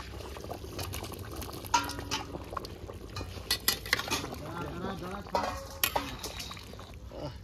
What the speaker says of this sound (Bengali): এবার ভাজা আলুগুলো মাংসের মধ্যে দিয়ে দেবো।